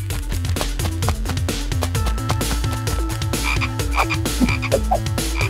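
Toy frog croaking in a craft setting, a loud, steady run of rhythmic croaks repeating throughout against busy tonal music, with no talking.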